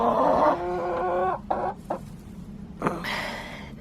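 Hens clucking and squawking close by as a newly mixed flock settles its pecking order, a run of harmonic calls followed by short sharp squawks and a final burst.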